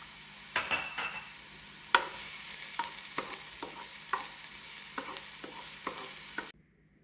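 A quarter cup of onion sautés in a chili pot with a soft, steady sizzle, punctuated by about a dozen sharp scrapes and clinks of a utensil stirring against the pot before stopping abruptly.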